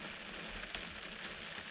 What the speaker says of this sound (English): the way that camera is picking up all the rain on the roof